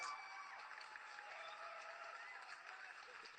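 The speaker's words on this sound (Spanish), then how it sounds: "Quiero precisamente darle play a los mismos aplausos" Recorded applause sound effect played during a casual online conversation: steady, dense clapping with a faint crowd wash, evenly loud throughout and heard alone without talk.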